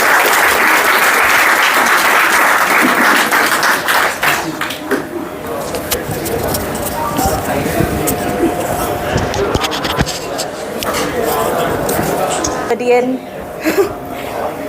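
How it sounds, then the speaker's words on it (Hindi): Applause from an open mic audience in Gulbarga welcoming a poetry performer, loud and dense at first, then thinning into scattered claps and rustling shuffles with murmured voices underneath. "थोड़ा तालियों से हिम्मत अफजाई करें तो बेहतर है।"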